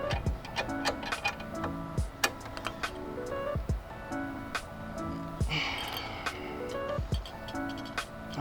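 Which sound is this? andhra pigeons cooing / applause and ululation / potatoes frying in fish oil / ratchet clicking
ratchet clicking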